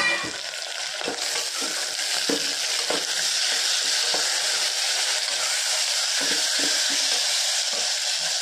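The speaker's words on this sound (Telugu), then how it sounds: "ఇదంతా బాగా కలబెట్టుకున్నాక కట్ చేసి పెట్టుకున్న టమాటా ముక్కలు వేసేస్తాం" Tomato pieces go into a frying spice mix, giving a bright, continuous hiss of oil with scattered scrapes and taps from stirring across the whole stretch.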